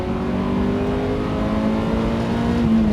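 A Ferrari F355 engine revs from inside the car, a loud raspy drone with strong induction noise and a slowly rising pitch, heard up close with no one talking.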